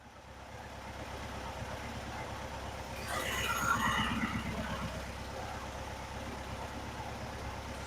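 A 1963 VW Bus engine idles steadily at low pitch, a continuous rumble with a brief swell in the middle, heard close with no talking.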